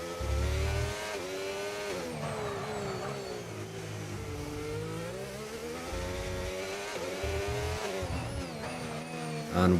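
McLaren race car accelerating through the final corner of a pre-season race in Mexico, its engine note rising and shifting in pitch through gear changes, loud and steady from onboard without any talk.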